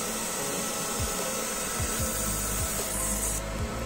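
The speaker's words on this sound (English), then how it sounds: "let's start the engraving process. And you can hear some noise, sounds." An industrial laser marks metal with a steady, even hiss and buzz, broken by faint soft ticks at irregular intervals. It runs continuously throughout with no talking.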